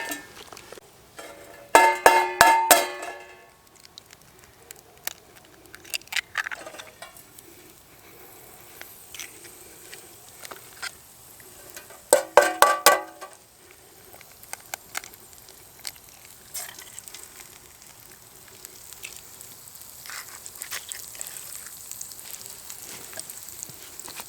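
Bacon frying in a pan at a cold-night tent campsite gives a soft, steady sizzle, broken by a few brief, louder clattering bursts, with no talking.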